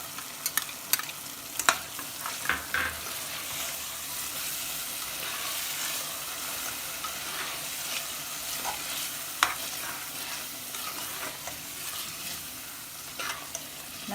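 Yogurt hisses and sizzles in a hot frying pan as chicken biryani cooks, with steady broadband crackle under scattered clinks and stirring scrapes, close and continuous with no talking.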